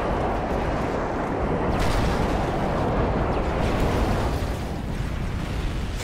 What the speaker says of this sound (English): Airstrike on the way.